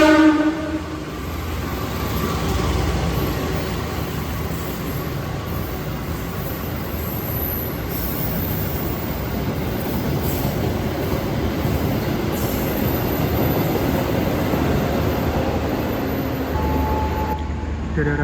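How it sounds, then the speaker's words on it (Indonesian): A parcel freight train rolls through Solo Balapan station with a sustained rumble of wheels on rail, metallic squeals and a horn, continuous and fairly close, while voices murmur faintly nearby. "Ada kereta yang berjalan langsung teman-teman, kereta api Parsel"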